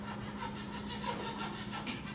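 Hand saw cutting through wood clamped in a vise, a steady run of rhythmic rasping strokes, close and moderately quiet, with no talking.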